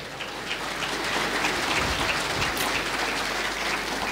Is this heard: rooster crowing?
no